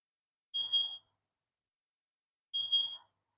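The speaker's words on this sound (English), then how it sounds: "you might be able to hear that beep in the background." Two short electronic beeps about two seconds apart, faint and distant in the background of a potato battery experiment, otherwise quiet.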